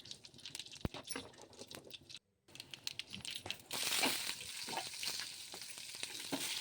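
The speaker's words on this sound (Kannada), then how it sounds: "ಸಾಸಿವೆ ಜೀರಿಗೆ ಸ್ವಲ್ಪ ಈರುಳ್ಳಿ ಜಜ್ಜಿದ ಬೆಳ್ಳುಳ್ಳಿ ಈರುಳ್ಳಿ ಕರ್ಬೇವಿನ ಸೊಪ್ಪು ಸಾಸಿವೆ ಜೀರಿಗೆ ಹಾಕ್ತಿದ್ದೀನಿ" Mustard seeds, cumin, crushed garlic, onion and curry leaves hit hot oil for a tempering, spitting and crackling close up with stirring scrapes, a brief gap of silence, then the sizzle grows to a steady loud hiss.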